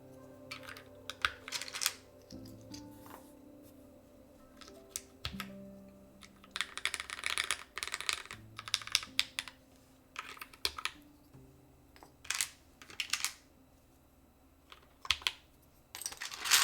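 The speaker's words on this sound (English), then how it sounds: "Banana, are you actually gonna like use this keyboard?" Rapid clicking keystrokes on a newly assembled Comic Sans build keyboard, close and crisp, in uneven bursts with short pauses, over a faint tonal background.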